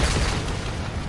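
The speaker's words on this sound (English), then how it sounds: "He blew himself up" A player's self-inflicted explosion in a shooter video game, heard as a dense, loud broadband boom and rumble that fills the whole short moment with no pause.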